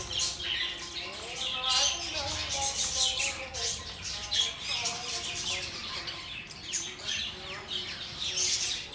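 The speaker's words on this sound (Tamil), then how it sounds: "பேர்ட்ஸ் உள்ளே இருக்குது." Chirps, tweets and squawks of birds inside a damaged terrace garden, a lively overlapping chorus heard close over a low background hum.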